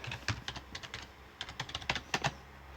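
Password tapped out on a computer keyboard: a quick run of crisp, close keystrokes in uneven bursts with brief pauses, no voices.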